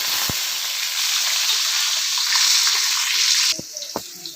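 Ginger and garlic fry in hot oil in a pan for a sardine curry, giving a steady close sizzle that hisses continuously before easing off, followed by a few light clinks near the end.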